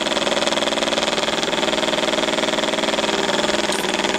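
A nail polish shaker runs with a steady, loud mechanical hum and rapid buzzing vibration, constant throughout and close by, with no voices.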